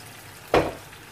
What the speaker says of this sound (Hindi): अब मैं इसके अंदर यखनी का पानी ऐड करूँगी थोड़ा सा